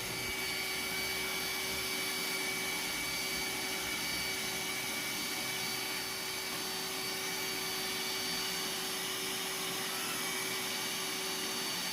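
A Roomba S9 robot vacuum runs steadily on a shag rug, giving a constant whirring motor and suction drone with a few tonal hums that holds for the whole stretch, with no one speaking.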